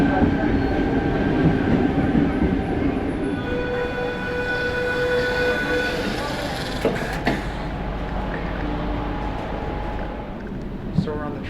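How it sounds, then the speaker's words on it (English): A passenger train in Sydney rumbles steadily from inside the carriage, with faint wheel clatter, a brief tonal whine and occasional clunks throughout. "So we're on the train right now"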